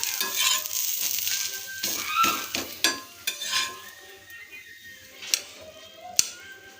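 A red pumpkin dosa fries in oil on a pan with a continuous close sizzle, broken by sharp clicks and scrapes from stirring or turning utensils; no one speaks.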